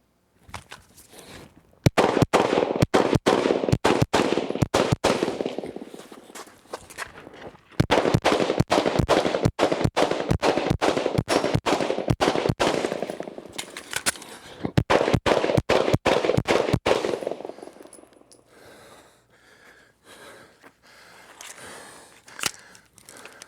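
Rapid pistol shots crack out in three dense bursts during a marksmanship and combat-movement drill on a range, each volley packed with sharp, loud reports, followed by quieter shuffling and a few scattered clicks.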